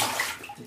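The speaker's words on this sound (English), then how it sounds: "she's splashing water everywhere." A toddler splashes water in a bath, a short burst of close sloshing and spattering with no talking.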